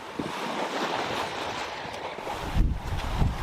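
A sailboat crossing open sea toward the Bahamas, with steady wind rush and washing water all the way through and a few low thumps of hull and waves near the end.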